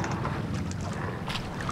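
Fishing boats approach across open water during night squid fishing, a low, steady engine drone under wind buffeting the microphone and faint lapping water.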